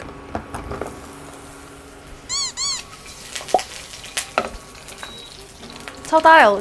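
Onion and garlic sizzle in olive oil, a close crackling fry punctuated by clatter and scraping of utensils, with a couple of short squeaky chirps and a louder burst of noise at the end.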